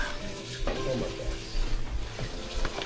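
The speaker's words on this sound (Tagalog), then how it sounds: "Luto namin sa mga lobster." Lobsters cook in a kitchen in Boothbay Harbor, Maine, with a continuous sizzle, scraping stirs and light clatter, and faint voices nearby.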